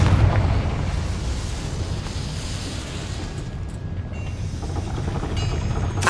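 A Confringo spell bursts in Hogwarts Legacy with a loud, booming blast that rolls into a sustained rumble, followed by a few faint magical chimes near the end.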